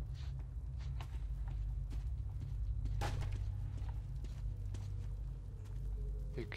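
Footsteps sound in the post-apocalyptic shooter Metro 2033, soft and irregular over a steady low in-game drone, with a sharper thud in the middle.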